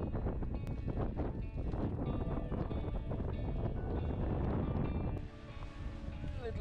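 Strong wind buffets the microphone on a bikepacking route along the South Leinster Way in Ireland, a continuous loud roar that eases slightly near the end, with a voice briefly audible.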